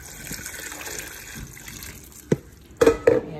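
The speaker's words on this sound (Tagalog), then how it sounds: "lagyan na lang natin ng tubig itong mga palangga" Water splashes and gushes into a pot of sliced apples for making cider, faint trickling giving way to a few sharp, louder pours near the end.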